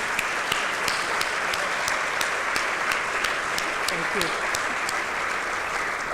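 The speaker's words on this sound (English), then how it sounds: "So let's give them a round of applause." Steady crowd applause fills a conference hall in Istanbul, dense and sustained, with a brief spoken thanks over it.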